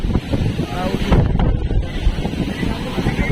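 Wind buffeting the microphone out on a rough sea during a search, heavy low rumbling gusts with waves and boat motion mixed in, loud and close, with a voice briefly present.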